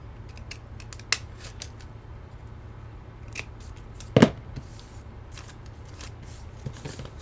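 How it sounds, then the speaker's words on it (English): Scissors trimming a folded paper origami bow, one quick crisp snip standing out against a quiet room with a few faint rustles and clicks of handling. "I am going to use a pair of scissors and trim the bow"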